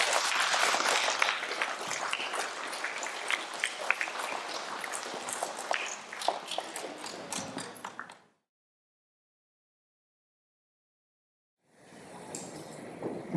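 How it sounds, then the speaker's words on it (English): Applause at a school awards presentation for a class, a sustained rattle of many hands clapping for about eight seconds, then silence, then a quieter burst of clapping resuming near the end. "Can we give 3S a clap?"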